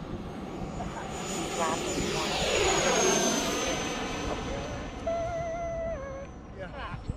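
An FMS Viper 90 mm electric ducted-fan RC jet takes off, its whine swelling and sweeping in pitch as it passes fairly close and then recedes, with a person talking over the noise.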